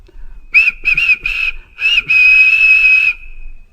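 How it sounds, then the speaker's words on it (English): A steam engine's whistle sounds in several short, shrill blasts, then one long sustained toot, loud and close with nothing else around it. "James whistled at them, but they paid no attention"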